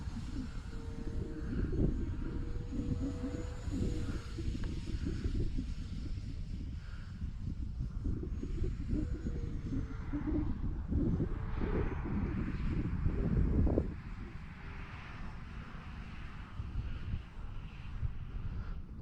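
An E-flite Timber Turbo Evolution RC model airplane's buzzing engine rises and fades as it passes overhead, mixed with gusty wind rumbling across the microphone.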